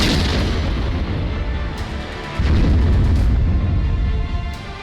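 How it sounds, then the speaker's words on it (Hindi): A dense, rumbling blast roars continuously, swelling louder midway with deep booming bursts and crackling debris, as a Russian T-72B tank explodes in war. "जोरदार धमाके के साथ तबाह रूसी टैंक।"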